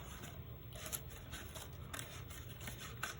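Scissors snipping through paper while cutting out an organic coral shape for a coastal collage, soft repeated crisp cuts in a quiet room.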